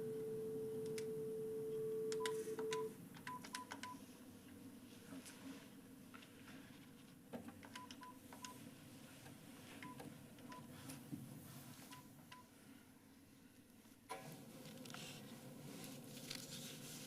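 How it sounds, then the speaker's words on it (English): Telephone keypad DTMF tones while dialing an out-of-area number from a board meeting room: a dial tone, then a string of short beeps in quick groups, fairly faint over room noise and shuffling. "612's out of the area, so still got to dial 1, right? Hit that 8 first"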